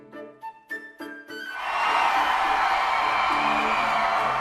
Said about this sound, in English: Wow, that crowd was amazing.